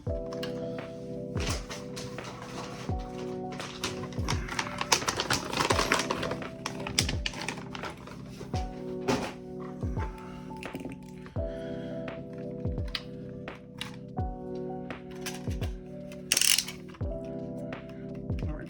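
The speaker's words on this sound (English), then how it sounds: "I'm gonna go ahead and load up this mag with a few first strikes" First Strike rounds pressed one by one into a TMC FSR magazine, giving a string of close, sharp plastic clicks and thunks at an uneven rhythm over a steady low background hum.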